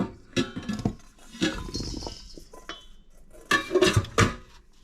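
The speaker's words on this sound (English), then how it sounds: "Dump everything into this big bowl." Roasting vegetables tumble into a large bowl, making several clattering, clinking knocks in separate bursts with quiet gaps between them.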